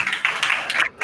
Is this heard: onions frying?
no